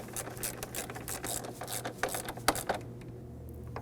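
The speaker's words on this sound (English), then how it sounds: "tighten that down using a 13mm socket" A ratchet with a 13mm socket snugs down the bolt holding the plastic fan shroud to the radiator of a 2009-2010 Dodge Ram 1500 5.7L V8. It makes a quick run of close, light clicks that fades out near the end.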